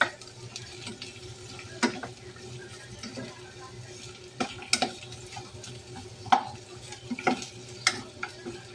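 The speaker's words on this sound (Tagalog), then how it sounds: "Sangkot sa muna yung sibuyas na puti" White onion sautés in a pan before fish steak is cooked, a soft sizzle under frequent scraping and clacking stirs of a utensil against the pan, close and irregular.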